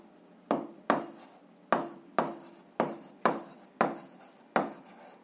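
A pen writes out the answer to a seventh-grade algebra exercise on paper: about eight short scratchy strokes in a steady rhythm, close and alone.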